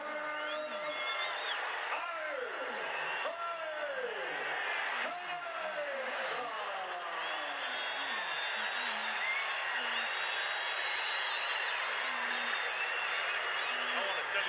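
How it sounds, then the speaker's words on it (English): A boxing arena crowd roars and cheers for the heavyweight champion, a dense, continuous wall of noise with an announcer's voice speaking over it throughout. "This crowd is ready for it."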